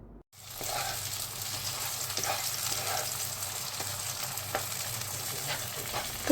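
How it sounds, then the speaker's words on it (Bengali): Tomato paste and spices sizzle steadily in hot oil while being stirred for a Faridpuri chicken kosha, with soft scraping strokes at intervals over a continuous close fry. "এবার সমস্ত মশলা ভালো করে কষিয়ে নিয়ে"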